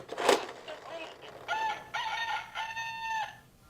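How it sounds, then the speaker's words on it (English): A rooster crows three times in quick succession, loud and near, each call a rising then sustained cock-a-doodle-doo, after a brief burst of noise at the start. "and the rooster says..."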